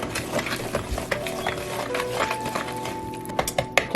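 Thick chocolate chip cookie dough worked in a bowl with a hand mixer attachment: continuous close scraping, clinking and stirring with irregular knocks and a faint whine, no talking.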